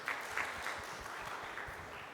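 An audience at a career expo applauds panel speakers as they join the stage, a faint, diffuse spread of clapping heard from a distance, with a few sharper claps near the start.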